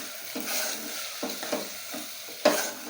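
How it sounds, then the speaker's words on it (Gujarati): Grated bottle gourd sautés in a pan over a low gas flame, a soft steady sizzle broken by several scraping stirs and one sharper clink of the spatula near the end, with no talking. "હવે આપણે આ દૂધી ખમણી તે નાખશું, એની આપણે 2 મિનિટ"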